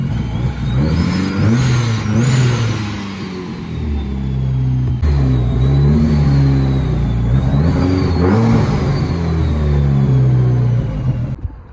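A turbocharged Mazda Miata's engine revs repeatedly up and down, loud and close, with a rising turbo whistle and deep rumbling tones on each rev.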